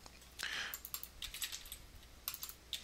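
Quick bursts of typing on a computer keyboard, close and fairly faint, with clustered rapid key clicks and short pauses while text is entered into separate frames; no one speaks.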